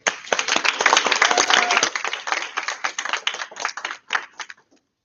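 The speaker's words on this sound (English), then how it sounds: "So let's give Taylor Gardner and Jared Anderson a nice applause" Audience applause for a debate team captain and coach at a university public debate: dense, loud clapping from a crowd that holds steady, then thins into scattered claps and fades out.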